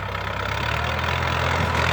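A Ford 6610 farm tractor idles close by, a steady low diesel rumble with an even pulsing throb and no voices.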